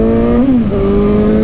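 A Suzuki GSX-S750 motorcycle engine pulls hard while riding, a loud close tone that rises briefly, dips at a shift, then holds steady, with no talk.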